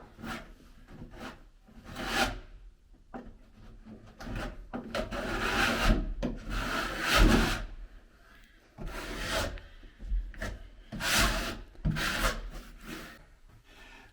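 Material being spread by hand over a shower wall inside a trawler under restoration, producing intermittent close scraping and smearing strokes with short pauses between passes.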